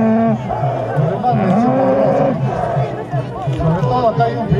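A cow moos in long, drawn-out calls amid a crowd's chatter at a 2012 anniversary livestock contest in Usibamba, fairly loud and close over the murmur of people.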